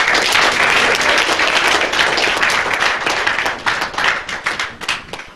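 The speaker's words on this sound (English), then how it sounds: "Give a round of applause" Loud, dense applause from an audience at a community meeting, many hands clapping steadily and close, then thinning into scattered claps near the end.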